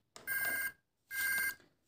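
A toy telephone rings out two loud electronic bursts after its buttons are pressed, each a bright, buzzy tone lasting about half a second with a short gap between them.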